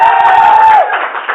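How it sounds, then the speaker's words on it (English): Comedy club crowd at the Adelaide Fringe Festival cheering and whooping in a loud, sustained burst, with a high sustained whistle or whoop riding over the noise before it fades slightly. "Everybody cheer for my girlfriend."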